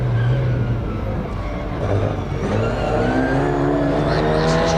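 A 1969 Corvette race car in British racing green climbs a mountain hillclimb course, its engine droning loudly and rising through the gears as it nears, under faint commentary.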